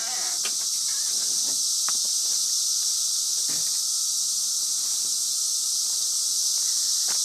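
Dense, steady buzzing drone of cicadas fills an outdoor scene, loud and continuous throughout, with a few faint clicks and small sounds scattered beneath it.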